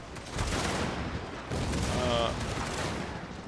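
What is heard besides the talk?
mortar shots landing in Fall of the Dragon Empire video game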